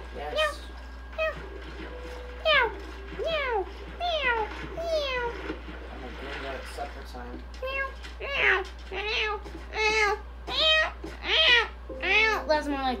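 A person's voice imitates a cat, producing a long series of rising and falling meows with short pauses between them, heard fairly close and clear over a low steady hum.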